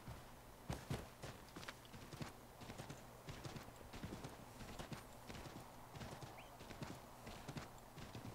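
Horse hooves clip-clop steadily in the Assassin's Creed III video game, a fairly quiet, continuous rhythmic trot with an occasional whinny mixed into the game ambience.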